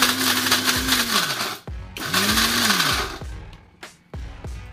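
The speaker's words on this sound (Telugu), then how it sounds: "చూడండి ఇలా గ్రైండ్ అయ్యి ఉంటుంది" Kitchen mixer grinder whirring through green chillies, salt and garlic, its motor whining loudly in two long bursts that rise and slow, followed by short pulsed spins with brief pauses between.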